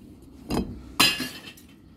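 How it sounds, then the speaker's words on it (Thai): Glass bottles dropped one after another into a recycling bin, giving two loud, close clinks and clatters about half a second apart, followed by fainter settling rattles. "อันนี้ทิ้งขวดสีขาว"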